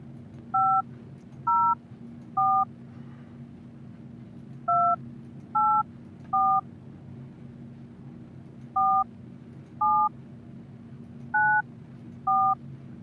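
A telephone keypad dials a number, about eleven distinct DTMF tones in short clustered groups over a steady low hum, clear and close.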